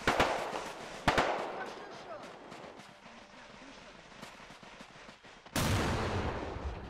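Video game battle: sharp explosive bangs and gunfire crack through a rumbling, noisy ambience as marines raid a compound, with a big blast midway sending a loud, sustained roar.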